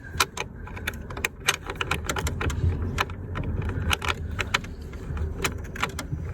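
13 mm spanners are handled while working on a Volkswagen Beetle, giving quick, irregular metallic clinks and jangles close by over a low background rumble.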